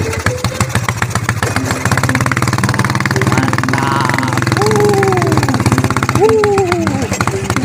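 A motorcycle engine running in a rural rice-field setting, a loud close, rapid pulsing putter throughout, with people talking over it.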